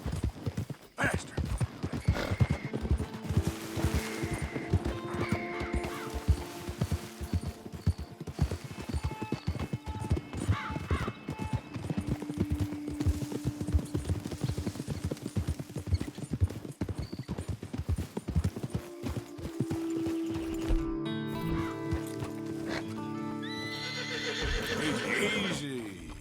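In Red Dead Redemption 2, a horse gallops with quick, rhythmic hoofbeats and gives several whinnies, alongside game music and a rider talking.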